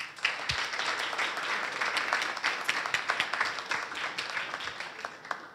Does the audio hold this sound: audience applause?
yes